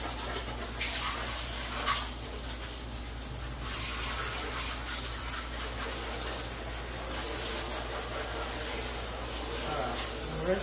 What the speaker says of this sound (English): Alright, I'm gonna rinse these pockets until the soap is gone.